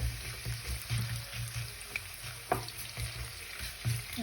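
Potatoes cut into long strips fry in hot oil with a steady, close crackle and bubbling sizzle, broken by light stirring clinks and small pops.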